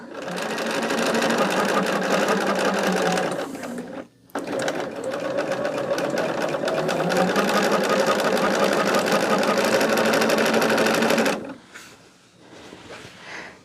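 A sewing machine stitching fabric runs in a fast continuous whir for about four seconds, stops briefly, then runs steadily again for several more seconds before stopping, leaving quiet room sound.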